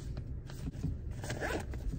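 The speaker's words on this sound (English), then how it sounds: "let's go ahead and open up the main compartment now" A backpack zipper drawn open along the main compartment of a Bounce Design Labs 3DC bag, a close series of quick rasping pulls over about two seconds with no talking.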